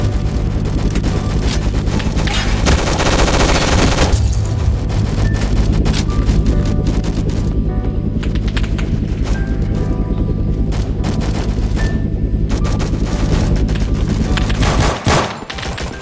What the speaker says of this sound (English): I think this game is gonna crash again because of how many bombs are going off still.